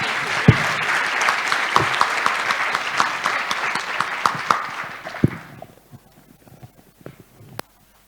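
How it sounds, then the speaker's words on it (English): Audience applause for panelists at an evidence summit, a dense, steady round of clapping that holds for about five seconds, then thins out into a few scattered claps before stopping. "Maybe we can have a strong round of applause for our panelists."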